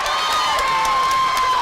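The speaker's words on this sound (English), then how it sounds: "you're going to hear the crowd noise come as the people cheer on their athletes" A crowd cheers on athletes at a North Dakota Class B high school track meet during the girls' 4x400 meter relay, a loud, continuous roar of voices with a sustained whistle-like tone running through it.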